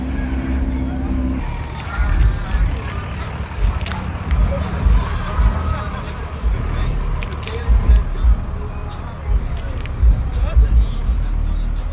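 A diesel bus engine at a bus drag race, throbbing low and fairly close with repeated surges and revs over outdoor crowd noise, with people talking throughout.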